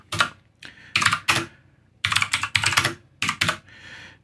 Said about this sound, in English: So I could type in a normal for loop.